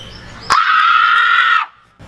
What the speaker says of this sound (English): So here we go for our first scream.